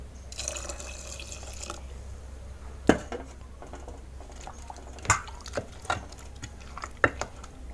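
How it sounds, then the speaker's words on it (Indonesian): Water is poured into homemade chicken feed, opening with a brief rushing pour and then scattered close drips and splashes, with light clinks from a pot. "Kita tambahkan air ya teman-teman ya"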